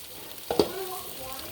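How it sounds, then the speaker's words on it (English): Bean sprouts dropped onto a hot pan while making crispy Vietnamese pancakes, giving a short, close burst of sizzling and frying that quickly settles into a soft hiss. "And sprinkle some of this bean sprout and heat it up."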